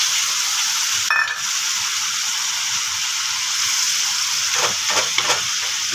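Egg curry with coconut milk sautéing in a pan, a loud, dense, continuous hissing sizzle close by, with a brief sharp clink early on and a few faint stirring scrapes near the end, no talking.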